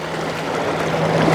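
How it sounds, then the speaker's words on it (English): A boat motoring past on the Scioto River beside a limestone bank, a steady low engine drone with water wash, close and fairly loud, no talking. "Here comes a boat."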